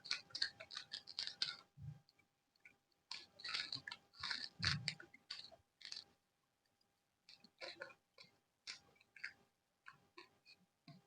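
Someone bites into and chews corn on the cob in repeated crunchy bursts, with short pauses between bites; the crunching is close and fairly quiet.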